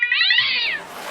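A cat gives one loud, drawn-out meow close by, with its pitch rising and then falling away over about a second. No other sound is heard.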